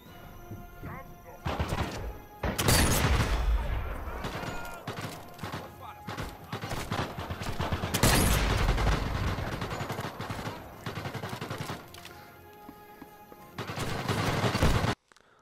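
Gunfire erupts in Sniper Elite VR, with bursts of shots and heavy blasts, including a trap explosion, crashing loudly and close in repeated volleys across the scene.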